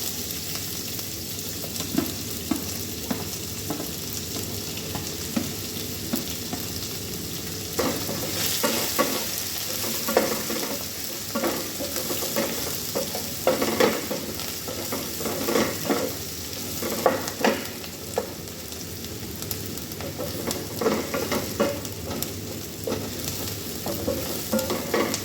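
Onion sautéing in a pan for chicken adobo, with a steady sizzle and repeated scraping stirs that grow busier partway through, close and fairly loud with no talking.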